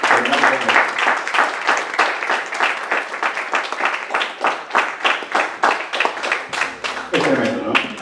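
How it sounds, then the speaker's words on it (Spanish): A church congregation claps in unison for the Lord, crisp rhythmic handclaps at a brisk, steady beat, close and loud, with a voice rising over the clapping near the end. "Denle un aplauso al Señor"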